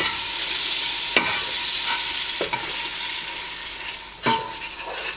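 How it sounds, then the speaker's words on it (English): A Twix krispie mixture is stirred hard in a pan, giving a steady close scraping, rustling texture with a few sharp knocks of the spoon against the pan, no voices. "stir it real hard so that the bottom of the pan does not burn"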